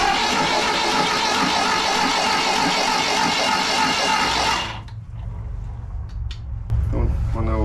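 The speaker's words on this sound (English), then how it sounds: "Don't want to overdo with this starter." An old VW Bus, unstarted for about 20 years, cranks on its starter motor with a dense steady whirring churn for several seconds, then cuts off abruptly, leaving a low rumbling hum and faint clicks.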